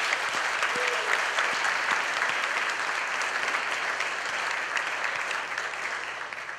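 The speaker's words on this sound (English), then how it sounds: "Let's give them a round of applause." A room full of people claps steadily at a retirement ceremony, a dense wash of applause that stays strong and slowly tapers toward the end.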